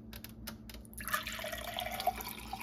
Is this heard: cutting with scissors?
no